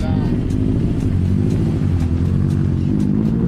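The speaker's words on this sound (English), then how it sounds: "Engine's running, it's gonna get you home." A loud rally car engine roars continuously up close at the Prescott Rally, a steady heavy drone with wind buffeting the microphone.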